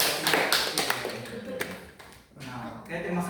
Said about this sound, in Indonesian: tepuk tangan dulu untuk Titin.